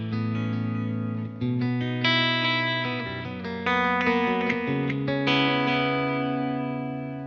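Electric guitar played through a Fender Mustang Micro headphone amp with a prominent delay effect: sustained chords and single notes ring out continuously, each change trailing into repeating echoes, steady and fairly loud with no talking.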